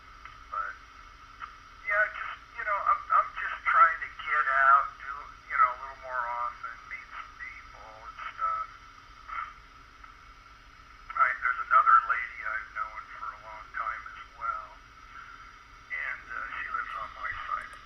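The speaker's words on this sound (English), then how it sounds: "This is a local GMRS repeater in my area, and there's a ton of interference in this garage." Voice traffic from a local GMRS repeater comes through a handheld radio in a garage, band-limited and tinny, with bursts of talk separated by pauses and steady electrical interference humming underneath.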